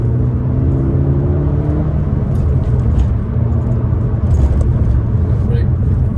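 A 2014 Peugeot RCZ driving on the road, with a steady engine drone and road rumble throughout, quite loud, as someone talks over it.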